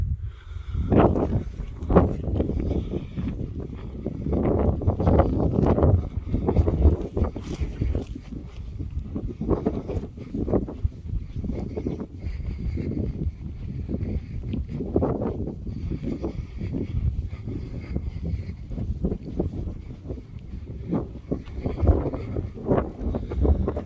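Steady wind blows across open ground at the stone hut circles near Holyhead, a continuous buffeting rush with gusty surges rumbling loudly against the microphone throughout.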